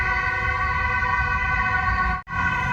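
Ambulance siren with a steady, loud wailing tone and heavy traffic rumble beneath, on a street in the Netherlands near Den Bosch, with a brief dropout near the end.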